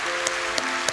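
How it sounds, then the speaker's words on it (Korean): Congregation clapping in welcome for visiting families at a Korean Sunday church service, a brief burst of dense applause with a few sharper claps standing out. "뜨겁게 박수로 환영하겠습니다."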